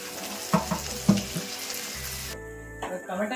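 Two medium-sized chopped sour country tomatoes dropped into a hot pan for Bangalore-style stuffed brinjal curry, giving a few close thuds and splashes followed by brisk sizzling and frying that cuts off briefly partway through.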